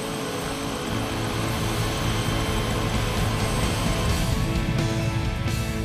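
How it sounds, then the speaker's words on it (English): A helicopter flying near waterfalls, a loud steady rotor and engine drone holding constant across the whole stretch with no voices over it. "You can see the helicopter behind me."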